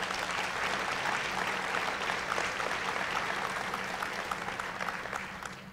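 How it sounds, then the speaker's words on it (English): Steady applause from a Skepticon conference audience, broad and sustained clapping that fades slightly toward the end, with no talking. "Give them a round of applause."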